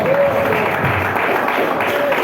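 A church congregation claps for Jesus during a service, a steady full wash of applause with voices mixed in beneath it.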